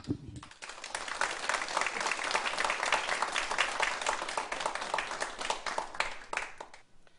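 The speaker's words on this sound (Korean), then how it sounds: "김형래 상무님 큰 박수로 모셔보겠습니다." Steady applause from a lecture audience welcoming a speaker, dense clapping that swells at the start and continues evenly before tapering at the end.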